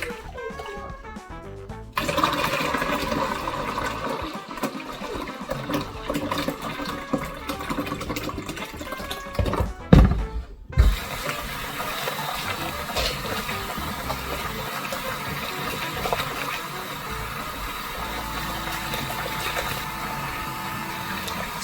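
Black-eyed peas are washed in water to remove their skins for akara, a steady rushing, sloshing flow of water with a brief louder splash and clatter midway, then continued running water.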